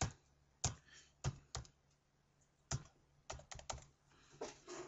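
Keystrokes on a computer keyboard as a password is entered: about ten sharp, close clicks in irregular bursts with short pauses, alone over a faint background hum.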